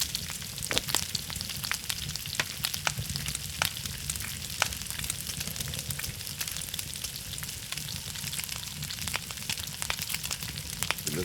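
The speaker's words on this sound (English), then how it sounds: "Let's just sear quickly." Meat sears close over a campfire in snowy, cold conditions in the survival game Scum: a continuous, dense sizzle with sharp crackling pops scattered throughout, loud and unbroken.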